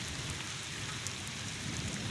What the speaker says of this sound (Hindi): ये देखिए अभी बारिश शुरू हो रही है।